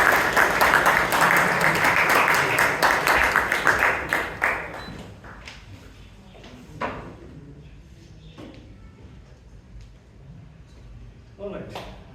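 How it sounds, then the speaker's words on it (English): At a Toastmasters club meeting, the audience applauds to welcome a speaker: dense clapping for about five seconds that fades out, followed by scattered taps, knocks and handling sounds in a quieter room. "Round of applause, please."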